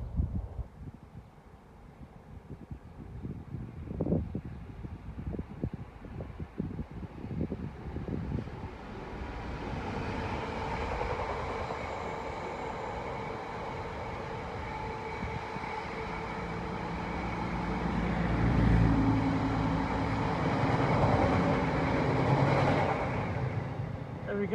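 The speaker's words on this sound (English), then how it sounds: "We've got a class 66 Freightliner." A Class 66 Freightliner freight train passes through Harborough station, a low diesel rumble building into a loud, sustained roar of wagons rolling past, with voices talking near the start.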